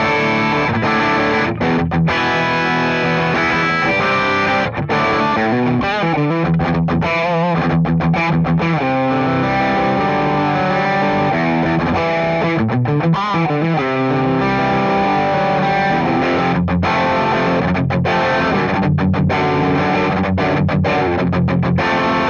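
A heavily overdriven electric guitar through a Wampler Belle Overdrive pedal plays chords and riffs continuously, thick and saturated, with brief gaps between phrases.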